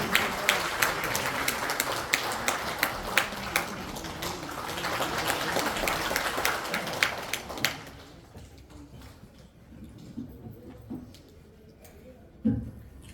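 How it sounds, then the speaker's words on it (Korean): Dense crowd applause welcoming an ambassador, many hands clapping loudly for several seconds, then it fades out and the room goes quiet with a few scattered sounds. "큰 박수로 환영해 주시면 고맙겠습니다"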